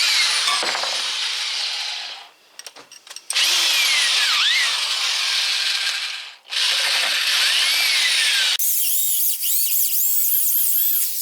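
A corded power drill whines steadily into deer antler, its pitch rising and falling, pausing twice briefly before grinding on, loud and close.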